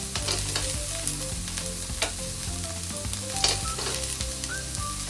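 Chana dal frying on low flame in a pan for lemon rice: continuous close sizzling with repeated spatula scrapes and stirs, no one speaking.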